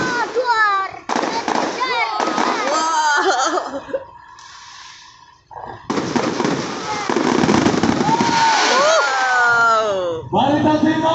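New Year 2024 fireworks at a regency government office in Barito Timur, bursting and crackling loudly overhead with whistling rises, while an excited crowd and children shout and cheer close by throughout.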